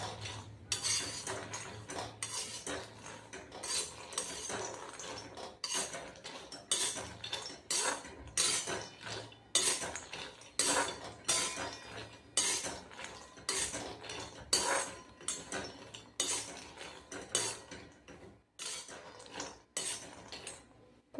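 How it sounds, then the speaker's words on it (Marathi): Cashews roasting on low heat in a pan for dry fruit laddoos, stirred with a utensil that scrapes and clinks against the metal in repeated rhythmic strokes, close and moderately loud. "तर हे पाव किलो काजू घेतलेला आहे त्याला एकदम कमी गॅसवर भाजून घ्यायचे आहे"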